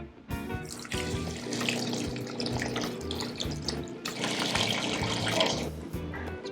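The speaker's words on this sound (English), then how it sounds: "this is the wet mixture I'm gonna put on the Italian beef" A gravy mixture pours in a steady wet stream onto Italian beef in a pan, splashing and trickling continuously and loud and close throughout.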